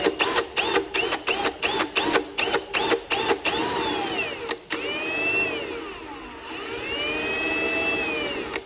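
A power drill whirs in rapid pulsing bursts, then runs steadily with a high, shifting whine as the bit bores through a plastic DeLorean rear tail lamp lens.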